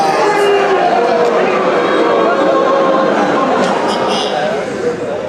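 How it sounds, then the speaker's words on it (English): An angry Midwestern crowd makes a dense, continuous roar of many voices shouting and jeering together, loud and unbroken throughout. "That's an angry Midwestern crowd."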